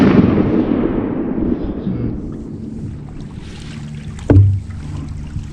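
A shotgun fires once at a duck during a jump-shooting hunt in North Carolina, a single sharp loud blast near the end, after low rumbling outdoor noise.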